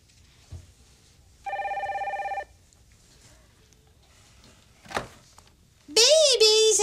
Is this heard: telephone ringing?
yes